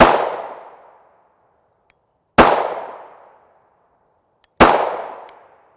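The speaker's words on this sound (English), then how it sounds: "We're only going to put like 4 rounds through each gun." Three sharp, loud gunshots from 5.7x28mm Fiocchi 40-grain ballistic tip rounds fired outdoors, each a crisp crack with a long fading echo, spaced about two seconds apart.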